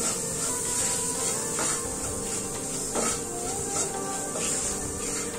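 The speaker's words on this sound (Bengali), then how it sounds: "এবার আমি মশলাগুলোকে একসঙ্গে ভালো করে মিশিয়ে নিচ্ছি।" A spoon stirs turmeric, chili and coriander powder with salt in a pan, giving a continuous dry scraping and rubbing sound with a few sharper scrapes. It is close and steady, with a faint hiss in the background.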